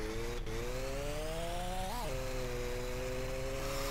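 A motorcycle engine in the video game My Summer Car drones steadily at a high idle, its pitch rising slightly partway through and briefly wavering before it settles again.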